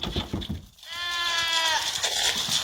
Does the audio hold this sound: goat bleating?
yes